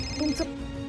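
A short electronic phone ring, a steady tone with a brief warble, fairly quiet against faint background voices.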